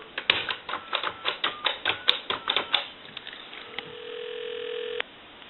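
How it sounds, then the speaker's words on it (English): A rapid run of keypad tones on a red Western Electric 2500 desk telephone, about a dozen quick beeps, then a steady dial tone hums for a second before cutting off. "give you some dial tone. We'll call a time and temp number"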